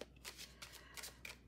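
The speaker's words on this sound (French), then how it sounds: "Je vais vous mettre les cartes" Tarot cards being shuffled and laid out for a reading, a quick series of soft papery riffles and flicks, close and fairly quiet, with no voices.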